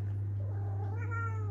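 A cat meows once, a drawn-out, rising and falling cry heard close over a steady low electrical hum.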